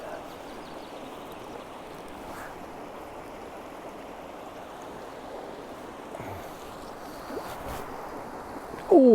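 Fast-running river water on the North Esk, a steady broadband rush of current holding evenly throughout, close and continuous, with a brief louder knock right at the end.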